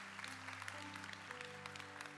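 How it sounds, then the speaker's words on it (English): Church congregation applauding summer interns, faint distant clapping under a steady low hum, quiet and continuous. "would you give all of them a huge round of applause?"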